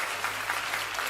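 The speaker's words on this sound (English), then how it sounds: "I'm gonna give you a clap for that one" Applause sound effect played on a gaming stream, a brief, quiet burst of clapping that runs evenly for about a second, with no voices.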